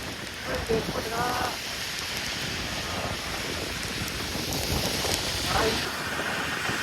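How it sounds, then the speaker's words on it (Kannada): Steady rain falling, a dense wash of patter on a hard surface, fairly close and continuous, with faint brief sounds breaking through now and then. "ಮಳೆ ನೋಡ್ರಿ"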